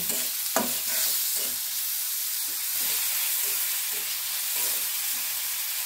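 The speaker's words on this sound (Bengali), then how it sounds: "চিংড়ি মাছ সহ ভেজে নেব 2-3 মিনিট।" Shrimp fry in hot oil with onion and garlic in a pan, a constant bright sizzle broken by repeated scraping strokes of a spatula stirring at an even pace.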